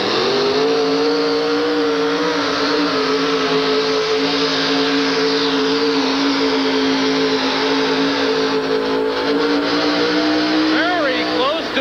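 The monster truck Gone AWOL roars at full throttle while pulling a weighted sled at a 1988 USHRA truck pull in Hartford, its engine note a loud sustained howl with a rising rev near the end.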